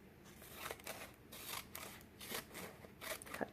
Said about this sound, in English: Next one, find the middle, cut straight up, and stop at the stop line.